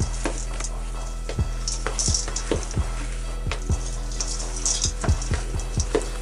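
Oats, nuts, coconut and raisins being mixed for homemade protein bars, a series of close, irregular dull knocks and scrapes of a utensil working through the sticky mixture in a bowl, over a low steady hum, without speech.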